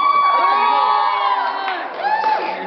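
An audience at an awards ceremony cheers and shouts loudly in a short burst of whoops and high-pitched voices, with children's shouts among them.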